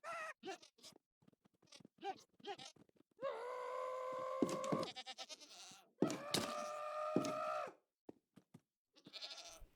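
Several goats bleat in a video game cave farm built for goat horns, starting with short scattered cries and moving into long, loud, harmonic bleats that overlap and fade, with more brief calls near the end.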